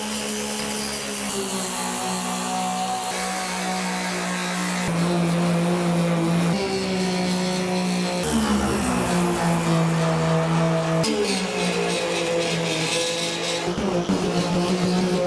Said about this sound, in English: let's get to grinding that box